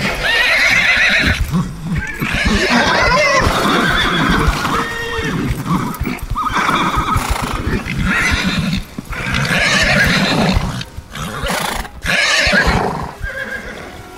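White stallions at riding lessons, with loud repeated neighing and whinnying close by and hoofbeats clip-clopping underneath, continuous throughout.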